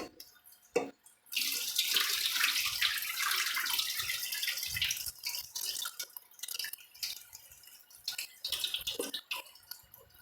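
Tap water runs into a bowl as sushi rice is rinsed, a close hissing splash that starts abruptly, then breaks into sloshing and trickling with a few handling knocks.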